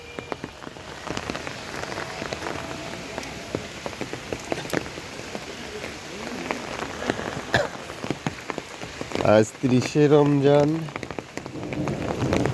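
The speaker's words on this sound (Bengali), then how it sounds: "প্রচুর পরিমাণ বৃষ্টি হচ্ছে আসলে" Heavy rain pours steadily outside a mosque after Friday prayers on the last day of Ramadan, a dense hiss with scattered drips and splashes, while a voice speaks briefly near the end.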